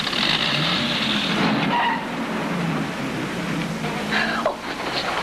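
A car pulls away with engine noise and a brief tire squeal, moving steadily off, at a night scene on a 1950s highway patrol drama. A loud, continuous car sound is heard with no voices.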